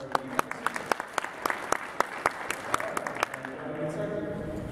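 Scattered audience applause at a gaming convention panel, with sharp individual claps standing out over a steady crowd patter, then thinning into a softer wash of clapping toward the end.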